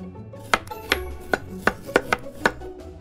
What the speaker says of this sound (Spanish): Comenzar a picar.